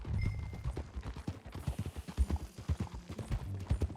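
Horse hooves clip-clopping at a steady riding pace in the Red Dead Redemption 2 video game, with rhythmic close thuds over a low rumbling background and no talk.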